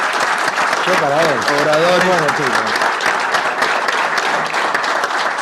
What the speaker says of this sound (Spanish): Quiero un gran aplauso para nuestros